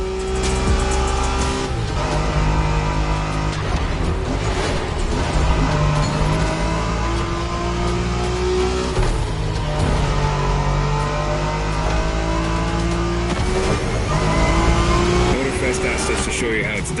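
Cars racing through Japanese-style streets in the driving game Motorfest, with loud continuous engine roar, revving and acceleration, occasional tire squeal, layered under steady talk and game sound throughout.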